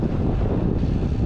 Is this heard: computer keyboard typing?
no